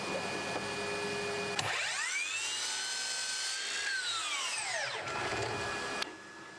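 A miter saw with a stop block cuts wooden pieces to length for a coffee table: the motor whines up, holds a single cut, then winds down, heard close and moderately loud over a faint background hum.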